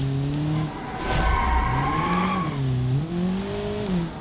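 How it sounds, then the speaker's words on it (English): A race car in a driving-training racing video game accelerates, its engine tone climbing and dipping in steady sweeps, loud and continuous with no talk. "You just press the gas, you go."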